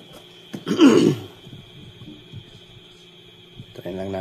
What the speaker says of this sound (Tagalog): Grabe yung ubo natin